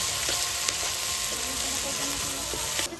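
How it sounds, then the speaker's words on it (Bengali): Dry red chillies, bay leaves, cumin and chopped onion sizzling in hot oil for chicken curry, a loud, dense, continuous frying hiss close by with light stirring taps, cutting off abruptly at the end. "চিকেন কষার জন্য ফোড়নে দেবো শুকনো লঙ্কা, তেজপাতা আর জিরে। এরপরে দেবো কেটে রাখা পেঁয়াজ।"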